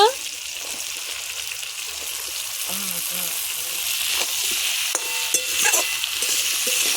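Cut ridge gourd frying with ginger paste in oil in a pan for a fish curry, giving a steady close sizzle broken by a few light stirring clinks and scrapes.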